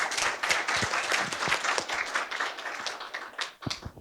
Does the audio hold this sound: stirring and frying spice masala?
no